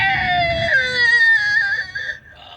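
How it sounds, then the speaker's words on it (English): A car's brakes give a loud, high squeal while slowing down in a hurry, the wavering tone gliding lower and fading out after about two seconds. "That was my brakes."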